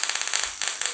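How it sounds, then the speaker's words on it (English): Electric sparks about an inch long jump from a high-voltage generator setup around 35 kV, giving a loud, close, rapid crackling buzz with dense snapping pulses throughout a brief burst. "Can you observe the blue spark?"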